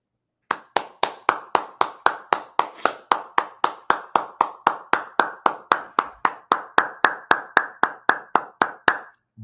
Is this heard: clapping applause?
yes